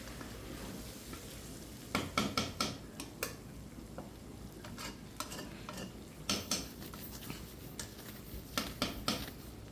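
Chicken curry frying in a pan and being stirred, with a steady sizzle under repeated scraping stirs that come in bursts, close and fairly quiet, with no talking.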